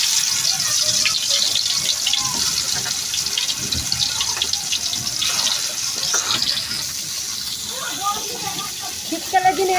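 Prawn fritters hit hot oil in a pan and set off a continuous hissing sizzle with bubbling crackle, fairly close and steady throughout, with a voice speaking over it.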